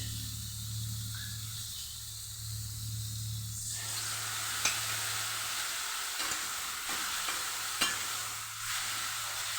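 Water poured into a pan of sizzling bitter gourd curry, a steady close frying hiss that shifts and settles once the liquid goes in, with a few faint clinks later.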